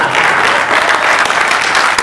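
A dense, steady wash of audience applause from a live Hindi comedy show fills the space with continuous clapping and no voices on top.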